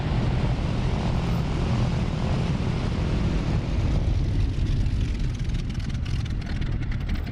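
An Fw-190 model airplane engine runs at a steady, loud drone close by on the ground before taxiing, with a dense continuous roar throughout and no talk.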